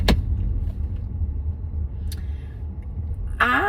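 Low, steady rumble inside a moving car, with a few faint clicks, then a voice begins speaking at the very end.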